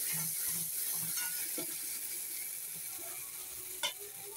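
Potato and radish fry in hot spiced oil with a steady, soft sizzle and a few scraping stirs, ending in one sharper clack of a utensil, with no talking.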